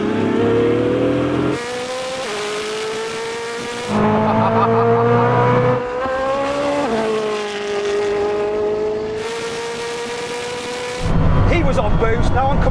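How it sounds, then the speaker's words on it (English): Bugatti Chiron Super Sport and Koenigsegg Jesko roll racing from 100 km/h, loud engines roaring and climbing in pitch with clear gear shifts, ending in a harsher burst near the close. "roll race at 100 km per hour is perfect power band for Jesko, it does 60 to 100 km per hour in third gear"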